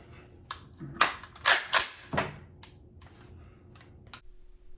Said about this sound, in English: Now, tap, rack, bang will also fix that problem